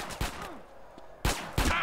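Gunfire in Grand Theft Auto San Andreas crackles in several sharp, punchy shots, a few early and a tight burst near the end, moderately loud.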